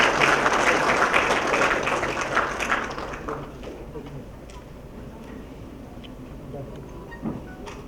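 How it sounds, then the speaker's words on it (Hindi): Audience applause welcoming Union Minister G. Kishan Reddy at the inauguration of a virtual photo exhibition: dense, steady clapping from a hall crowd that fades away after about three seconds, leaving quiet room tone. "तालियों के साथ स्वागत करें मंत्री महोदय का"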